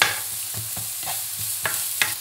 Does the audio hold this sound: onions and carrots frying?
yes